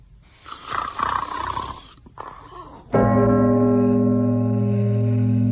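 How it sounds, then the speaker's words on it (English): A character in an audio drama snores loudly, a rough breathy sound, before a steady harmonic drone takes over. "in the midst of a prodigious snore"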